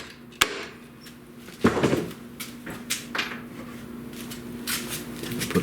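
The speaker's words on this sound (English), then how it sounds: "Give that a little tap to seat it into the wood." A part of a wooden Union Loom Works loom being tapped into the wood during a custom restoration, with a handful of sharp knocks and clunks spread unevenly, close by, no talking.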